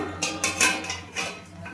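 A metal lid set on a cooking pot of potato curry with soybean kofta makes a few close, light metallic clinks and clatters in quick succession, with no voices.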